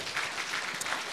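A church congregation applauds during an online GBI Sport Centre worship service, a dense, even wash of many hands clapping, heard at a distance and fairly faint.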